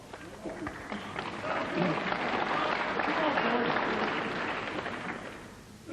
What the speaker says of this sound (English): Some encouraging noises in support of Higgins